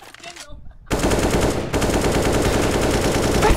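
An M4 rifle in the video game Counter-Strike opens up after a short quiet lead-in, then keeps firing as a loud, dense stream of rapid automatic shots through to the end, with faint voices only at the very start.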